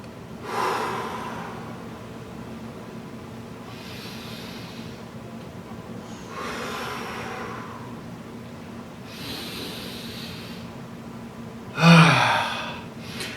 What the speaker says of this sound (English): Let's start off with our 3 giant inhales up.